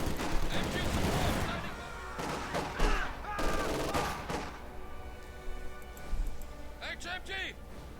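Bursts of MG42 machine gun fire and other gunfire in the World War II strategy game Company of Heroes 2, sounding dense and busy under steady talk from a commentator, with a sharper cluster of shots near the end.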